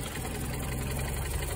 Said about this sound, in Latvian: Dzirdam pilnīgi kā motors, uzreiz arī savādāk darbojās.